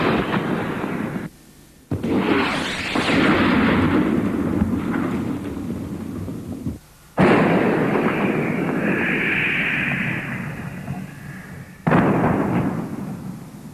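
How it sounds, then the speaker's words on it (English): Tanks fire 165-millimeter rounds from 250 yards at a stubborn burning coke pile in Kuwait, four heavy booming blasts separated by brief silences, each followed by a long rumbling roar and debris noise. "They fired several 165-millimeter rounds from 250 yards away."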